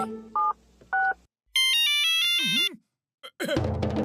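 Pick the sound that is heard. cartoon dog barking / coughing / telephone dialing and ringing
telephone dialing and ringing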